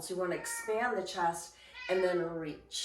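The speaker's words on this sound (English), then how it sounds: "So sorry about my crying cat." A cat meows repeatedly in drawn-out, whiny cries close to the microphone while someone talks calmly over them during a stretching routine.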